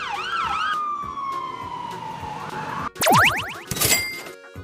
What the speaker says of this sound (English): This is a fire truck.